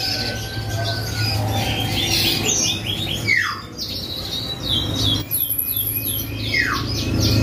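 Several sharp, chirpy bird calls and warbling notes ring out over a steady background hum, close and fairly loud, from caged Scotch Fancy canaries singing.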